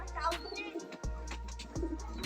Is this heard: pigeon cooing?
yes